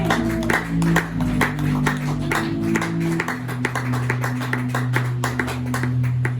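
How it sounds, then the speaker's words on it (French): An audience bursts into sustained applause for a woman during a sermon, a dense roar of clapping hands carrying on loudly throughout, with a low musical drone underneath. "Acclame cette femme."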